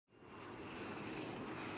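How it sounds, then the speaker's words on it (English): An airplane engine in the wrestling video game AEW Fight Forever fades in quickly to a steady, broad droning roar that holds at an even level, quiet and unaccompanied by talk. "Oh, I could speed up the plane."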